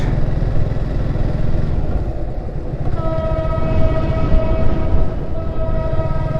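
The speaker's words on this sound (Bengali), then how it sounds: "আমরা রেলের সেই শব্দটি শুনতে পাচ্ছি" A train rumbles loudly past at Cox's Bazar railway station, a steady heavy roar of wheels and cars, with a sustained horn sounding from about halfway through over the continuing rumble.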